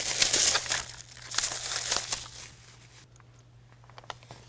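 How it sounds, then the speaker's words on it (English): Clear plastic film peeled off a Xyron adhesive sheet on a DIY ruler door hanger craft: a close, crinkly tearing rustle for about two seconds, then quieter scattered crackles and ticks. "Then I'm going to remove the clear film."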